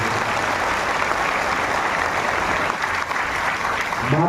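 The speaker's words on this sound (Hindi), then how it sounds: "मातृशक्ति के सम्मान में एक बार विशेष ताली।" Audience applause honouring the women at a religious gathering of a saint's sankalp yatra in Bastar, a dense, continuous wash of clapping from a large crowd that holds steady throughout.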